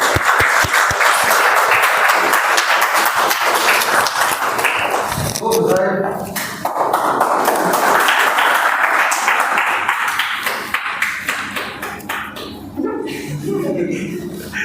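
A meeting audience claps in applause for a speech evaluator at a speaking club session, steady broadband clapping for several seconds with brief pauses and some voices.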